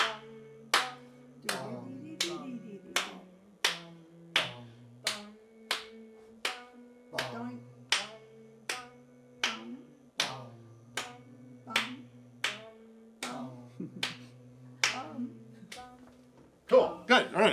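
Sharp hand claps repeat in a steady rhythm through a string quartet rehearsal, close and crisp, about one per second, with faint sustained tones beneath and a quick flurry at the end.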